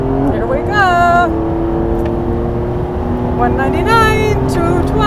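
A 2024 Lamborghini Revuelto plug-in hybrid on a race track, engine roaring loud and close as it revs and climbs through rising gear sweeps, while a voice talks over it.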